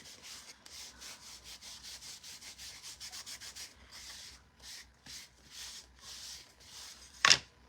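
A brush strokes paint onto wooden planks, giving soft repeated scratchy swishes in a quick steady rhythm that then slows, close and quiet, with one sharp tap near the end and no talking.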